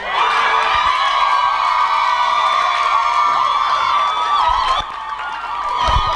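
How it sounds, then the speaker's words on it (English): A large conference audience at an entrepreneurship event screams loudly and continuously on cue, a dense sustained wall of shrill voices with a brief dip and a few thumps near the end. "Let's scream this time."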